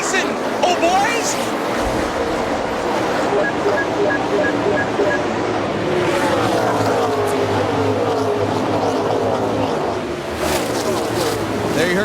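A pack of NASCAR race cars roars at the start of the 2007 Daytona 500, a dense, continuous engine drone that holds loud throughout while a commentator talks over it.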